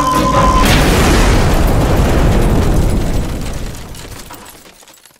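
A huge explosion in a Minecraft short film, a loud sustained roaring boom that rumbles for about three seconds and then slowly dies away to quiet.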